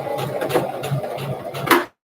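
Home sewing machine running a steady diagonal seam at 45 degrees across fabric while sewing pyjamas, a close, continuous mechanical whir for about two seconds before it stops abruptly.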